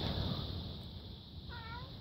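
A cat gives a single short meow near the end, faint and somewhat distant, set against a steady hum of background noise.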